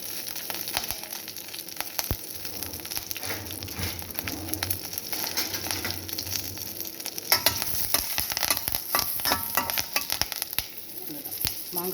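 Curry leaves with turmeric, asafoetida and salt sizzle in hot oil in a pan while tempering for sour mango rice, a steady close crackle with popping spatters and occasional stirring scrapes, no voices.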